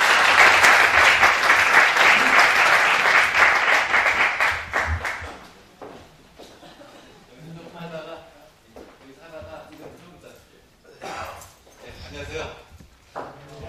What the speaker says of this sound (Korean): 우리 박수로 좀 환영해 주십시오.